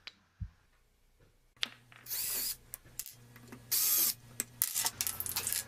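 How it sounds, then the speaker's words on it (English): A power drill whirs in short bursts, drilling a hole in a pipe cap, spinning up and stopping several times, with clicks and handling noises between the runs. "I'm doing that by drilling a hole to work as an orifice to control that water flow."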